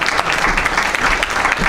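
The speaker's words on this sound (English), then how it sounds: "Just give them, everybody, just another round of applause." Audience applause for community award recipients at an NAACP humanitarian awards ceremony in Jackson County, North Carolina, a steady, dense wash of many hands clapping close by, sustained and even throughout.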